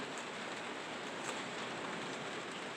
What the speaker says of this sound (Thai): ฝนตกตกพี่น้อง